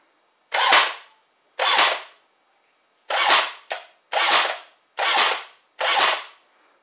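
A Steyr AUG A1 airsoft gun firing slowly and sluggishly: seven separate bursts, each a loud, close, drawn-out whirring crack with gaps between them.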